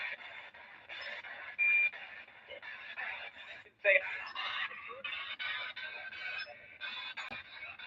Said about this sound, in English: the temperature detector started going off